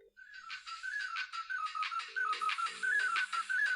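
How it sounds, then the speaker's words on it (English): A phone ringtone plays steadily for several seconds, a repeating high melodic electronic pattern with a faint low tone beneath, picked up at moderate volume with no talk. "so you can actually hear the ringtone"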